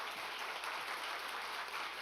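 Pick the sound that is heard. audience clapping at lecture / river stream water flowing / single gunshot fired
audience clapping at lecture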